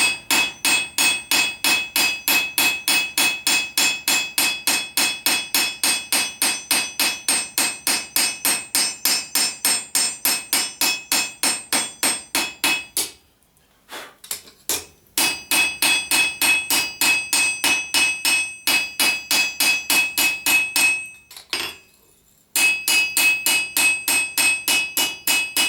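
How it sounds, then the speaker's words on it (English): Rapid, steady blows of a lighter hammer planishing hot steel for a forged belt cutter ring out with a bright metallic clang, interrupted by two short pauses before the rhythmic striking resumes. "Alright, I'll change to a lighter hammer"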